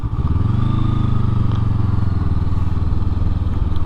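A Honda SCL500 scrambler motorcycle riding through mud, its engine a loud, close, continuous low drone whose pitch climbs briefly at the start, then holds steady under load, with faint clatter and no talk.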